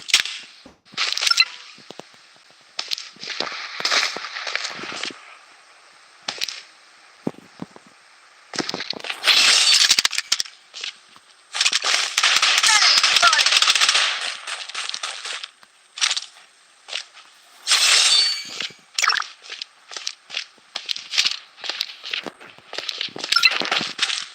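A battle royale video game firefight, with rapid bursts of gunfire and sharp shots cracking close and loud in irregular clusters amid other game effects.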